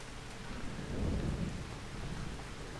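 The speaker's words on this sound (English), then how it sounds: "Oh, I love this rain." Steady rain with a low rumble of thunder in the farming video game Pasta King, a soft continuous wash of falling drops with a deeper swell near the middle, fairly quiet and without any talking.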